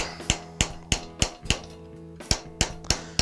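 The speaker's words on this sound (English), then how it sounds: "Now as you hammer, the metal becomes work hardened." Sharp metallic hammer blows ring out as a metal bracelet is shaped over a stake, about nine evenly spaced strikes, each with a bright clang and short decaying ring, close and alone.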